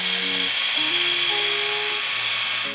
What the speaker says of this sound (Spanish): La depiladora cuenta con dos intensidades, esta es la primera